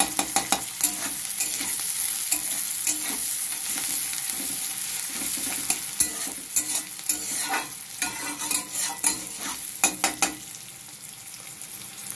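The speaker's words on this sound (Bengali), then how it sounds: "পেঁয়াজটাকে ভালো করে নাড়াচাড়া করতে হবে, এই তরকারিতে একটু তেলটা বেশি লাগে।" Onion being stirred and fried in white oil in a pan, with a continuous soft sizzle and repeated scraping spatula strokes up close. The stirring quickens into bursts toward the end.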